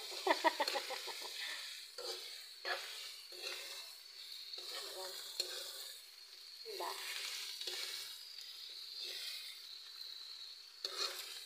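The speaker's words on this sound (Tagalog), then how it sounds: "Then, mix it again. Mix well." Food is mixed in a hot pan, giving a soft sizzle with intermittent scraping and knocks of a spatula, fairly quiet and without speech.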